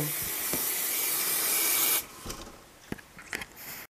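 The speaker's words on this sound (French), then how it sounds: "alors que le dôme est encore glacé, je viens bomber la surface." Spray hissing over the surface of a frozen strawberry dome cake, a loud steady burst of about two seconds, then stopping, followed by a few faint scattered clicks and rustles.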